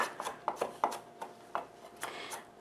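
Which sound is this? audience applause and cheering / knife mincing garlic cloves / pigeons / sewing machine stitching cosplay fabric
knife mincing garlic cloves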